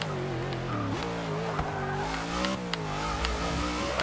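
A Ford Falcon GT V8, the Mad Max Interceptor, revs in the racing game Forza 6, its engine note rising and falling in a steady loud drone with brief tire squeals, and nothing else competing with it.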